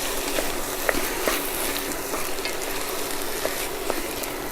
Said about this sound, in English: So onions and tomatoes have been cooking for about 8 minutes now, and they have formed a pulp.